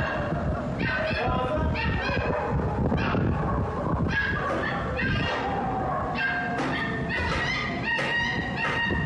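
A dog yelps and whimpers over and over while it is being beaten, in loud, high and strained cries that run without a break through a noisy scene.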